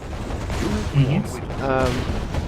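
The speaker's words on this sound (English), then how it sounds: "it does take a little time to reload those 4 shells that it fires rapidly" Tank in the Mental Omega game (Psi Corps subfaction) firing four shells in rapid succession, a cluster of quick booms over continuous game background and music, fairly close and moderately loud.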